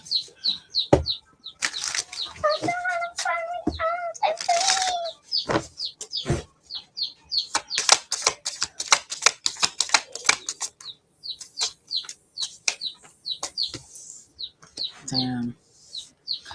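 A pet pigeon calls in a busy run of short, repeated notes and flutters, with brief bursts of tonal cooing mixed among dense clicks and chirps, fairly close and loud throughout.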